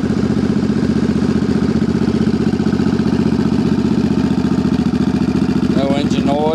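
A Suzuki Boulevard C50 motorcycle engine idles steadily up close with a rapid, even chugging rumble, and a brief rev comes near the end.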